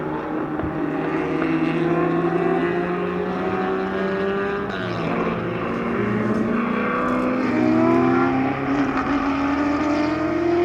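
Production race cars from the 1950s and 60s roar past at Sonoma Speed Festival, engines droning loudly and continuously with rising and falling pitch as several cars hold full throttle.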